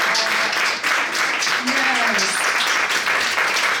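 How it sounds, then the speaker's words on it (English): A crowd at a Domestic Violence Awareness Month event applauds the survivors in the room: steady, dense clapping fills the whole stretch while a voice speaks briefly over it. "I give big applause to all the survivors in the room"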